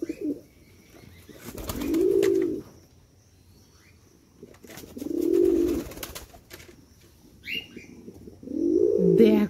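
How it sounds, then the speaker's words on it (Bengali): A breeding pigeon coos three times in long, deep, rolling calls at even gaps, loud and close, with faint background noise between calls and no talking. "ব্রিডিং সাউন্ডটা শুধু শোনো কিরকম, গুরর গুরর করে ওঠে, হ্যাভি সাউন্ড।"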